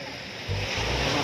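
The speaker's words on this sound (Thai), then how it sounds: "นี่ทะเล" Sea surf washing onto the beach at Koh Lipe, a steady broadband wash with a low rumble that swells partway through, close and continuous with no clear talk.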